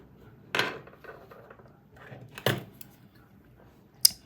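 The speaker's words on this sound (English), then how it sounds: "you are going to cut off the yarn" Scissors snip through crochet yarn after a flower's petals are finished, two distinct close cuts about two seconds apart with faint handling rustle between and a small click at the end.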